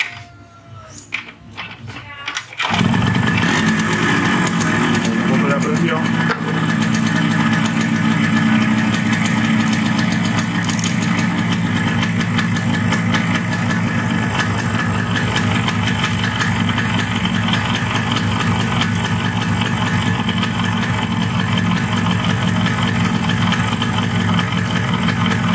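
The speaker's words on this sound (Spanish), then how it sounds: "Antes de echarle cinta, vamos a prender la moto." A Yamaha RX115 motorcycle is kicked into life after a few quiet seconds of handling, then settles into a loud, steady, close-up two-stroke idle that keeps running without pause.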